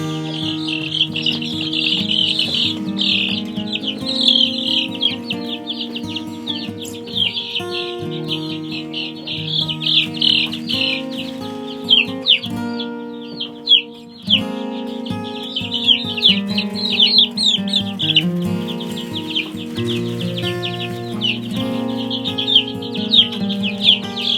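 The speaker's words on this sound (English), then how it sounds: "But we did intentionally have Delynn save us some copper marins and 1 bantam chick" Baby chicks, including copper marans and a bantam chick, peep in a constant high chorus close by, with overlapping calls and an occasional louder cheep.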